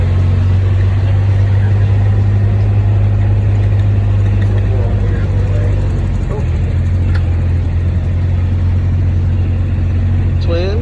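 Delta Force 750 twin-turbo car, its big engine running with a steady low rumble close by, a deep continuous drone that briefly shifts pitch partway through.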